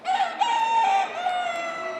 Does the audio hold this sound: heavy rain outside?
no